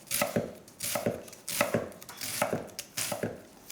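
A knife chops down through an onion on a cutting board, held in a three-finger grip while making a simple bolognese. Crisp, evenly spaced strikes repeat about ten times, close and clear with no talking.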